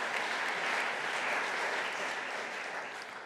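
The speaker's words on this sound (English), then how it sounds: "we could still clap for him" Audience applause fills the hall at a human rights awards ceremony, a dense, even patter of many hands that holds steady and eases slightly toward the end.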